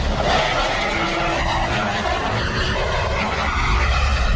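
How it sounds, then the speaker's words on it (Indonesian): An airliner makes its emergency landing and touches down on the runway: a loud, steady roar of rushing air and engine noise with skidding-like tyre rumble that holds throughout. "This is the moment of contact on the runway."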